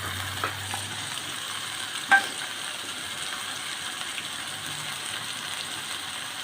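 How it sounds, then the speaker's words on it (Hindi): Spices fry in a pan for chana dal with a steady, soft sizzle, punctuated by a few faint scrapes and clinks of a utensil stirring. "अच्छी तरह से मसाले को फ्राई करना।"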